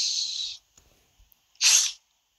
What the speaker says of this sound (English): Motherfucker sneezed a fucking pear out his nose.